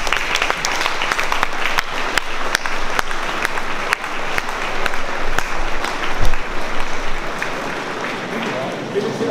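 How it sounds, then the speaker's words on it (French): Ceremony audience at a gendarmerie school promotion applauding the student gendarmes, continuous crowd clapping with sharp individual claps close by and some voices underneath throughout. "Je propose qu'ils applaudissent"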